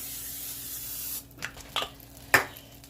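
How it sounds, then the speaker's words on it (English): A soft hiss of cooking spray onto a grill pan fades out, followed by a few short scrapes and clacks of the pan close by. "put the flame back up, spray it again"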